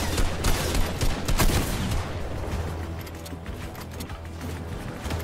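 Dense, loud bursts of shotgun and automatic gunfire in the video game The Division, rapid overlapping shots at first that thin out into steadier firing.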